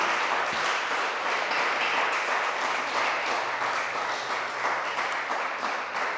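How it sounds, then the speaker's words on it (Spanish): Congregation applauding in a church, steady broadband clapping sustained for about six seconds at moderate level, with a faint low hum beneath. "Denle un fuerte aplauso al Señor porque Él es el que nos ha constituido."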